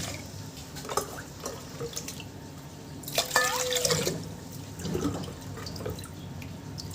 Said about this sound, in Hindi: अब इसमें डाल देते हैं पानी। तो जिस कटोरी से हमने चावल लिए थे उसी कटोरी से पानी डाल देंगे।